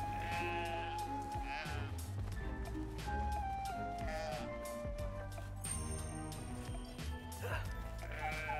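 Sheep bleating in the video game Brothers: A Tale of Two Sons Remake, heard amid a dense, continuous game soundtrack of music and effects.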